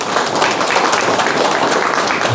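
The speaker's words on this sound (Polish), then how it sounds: "Gorące, gorące brawa!" Warm, steady applause from an audience at a municipal election convention in Żukowo, dense and continuous throughout without pauses.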